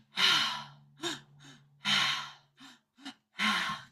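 Deep audible breaths repeat in a slow rhythm during a breathwork exercise, long airy inhales and exhales with sighing, gasp-like edges and short quieter breaths between, close and loud with a faint background hum.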